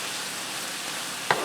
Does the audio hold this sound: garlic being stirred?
yes